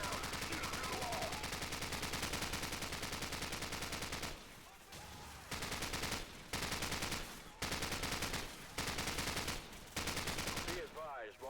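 Sustained M240 machine gun fire in Call of Duty 4, long dense rattling bursts broken by a few short pauses, loud and close, with battle noise behind it.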